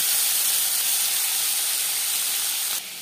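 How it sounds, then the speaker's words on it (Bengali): Fish pieces and a fish head sizzling in four spoons of hot refined oil for a winter fish curry, a loud, steady hissing fry close by that drops off abruptly near the end, with no talk. "4 চামচ রিফাইন্ড অয়েল গরম করে নেওয়ার পর দিয়ে দেবো মাছ"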